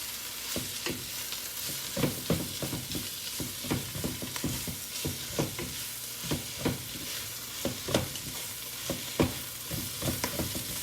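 Greens cooking down in a pan for a vegetarian dish, a steady sizzle and hiss with repeated sharp scraping stirs spaced about every second, close and alone without voices.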